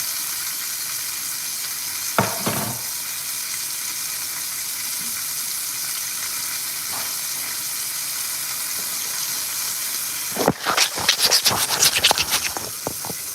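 Steak frying in a cast-iron pan gives a steady, loud hiss and sizzle throughout, with a brief scrape early on and a burst of crackling, spattering pops near the end.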